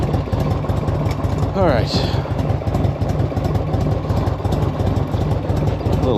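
A 1984 Harley Davidson motorcycle engine idles close by, a steady, loud, lumpy throb under brief talk.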